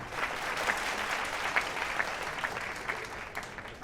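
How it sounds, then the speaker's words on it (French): Applause from the audience at a fashion show ranking, a soft continuous wash of many hands clapping, fairly distant and even, with a few sharper claps poking through. "On applaudit bien fort."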